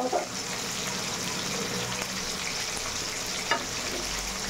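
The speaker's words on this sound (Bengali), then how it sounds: "ভেটকি মাছটা আগে ভেজে নিই, অনেকই গরম হয়ে গেছে তেলটা" Bhetki fish frying in very hot oil gives a steady, even sizzle and crackle for several seconds, with a few sharper pops and faint kitchen clatter.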